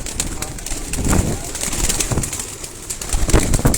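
Pigeons being readied for racing at a Sialkot loft coo in a close, busy murmur, with brief flutters of wings mixed into the short stretch of continuous calling.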